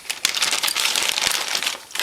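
A plastic bag crinkles and rustles continuously and close by as a Honda Foreman Rubicon engine cam is taken out of it during engine assembly.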